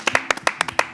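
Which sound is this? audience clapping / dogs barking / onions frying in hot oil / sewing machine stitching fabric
audience clapping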